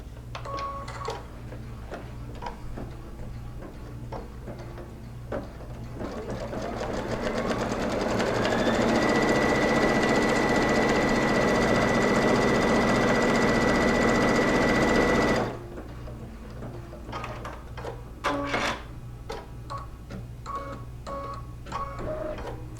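A sewing machine stitches a line across a quilted strip heart, running in one steady, close burst of several seconds before stopping, with quiet handling noises before and after.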